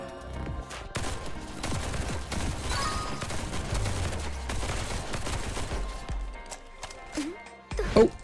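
Rapid gunshots in a video game while shooting targets, a burst-like run of sharp cracks mixed with busy game sounds and a louder hit near the end, with a person talking over it.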